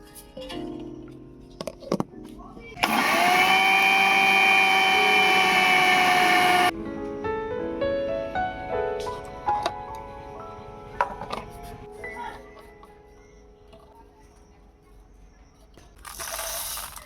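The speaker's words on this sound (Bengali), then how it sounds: "প্রথমে গুঁড়ো করে নেব জিরে।" Electric spice grinder pulverizing roasted cumin seeds in one loud, steady whirring burst of about four seconds, followed by quieter clinks and handling noises and a brief second whir at the end.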